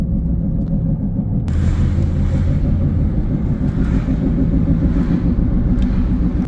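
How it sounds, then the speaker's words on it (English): Loud, steady rumbling road noise from inside a moving car, with a continuous grinding drone from a faulty wheel rotor underneath; no talking. "Sounds like a rotor. Definitely something wrong with the wheel right here."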